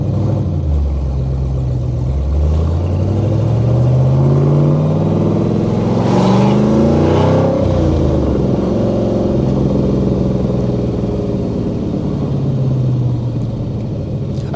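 A C4 Corvette with a cammed LT1 V8 accelerates hard with a loud, rough rumble, its pitch climbing through several gear pulls before easing off, heard close from inside the car.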